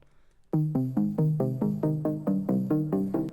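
Synth arpeggiator pattern running downward, a steady train of about a dozen plucky notes after a short quiet lead-in, close and prominent with no voices.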